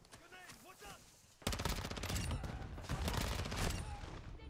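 In a shooter video game, a voice speaks briefly before loud shotgun fire breaks out in rapid, repeated blasts that continue densely to the end.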